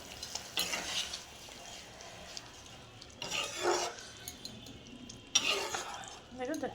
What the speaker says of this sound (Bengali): এই গরম জল অ্যাড করে দিলাম।